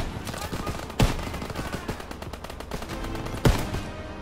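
Gunfire in a Call of Duty WWII beach assault, with a German MG position firing, two heavy shots standing out at about one second and three and a half seconds over a busy battle bed and faint voices.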